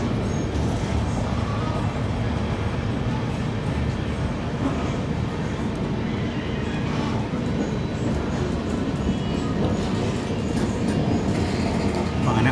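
Steady loud rumble of the Kalka Shatabdi express running after leaving Panipat junction, heard from inside the coach as continuous rolling and track clatter with no pause throughout.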